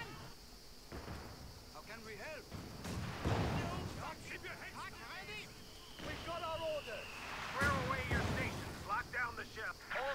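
Anti-tank guns and other artillery in the World War II strategy game Company of Heroes 2 fire in repeated heavy booms amid battle noise, with a commentator talking over them throughout.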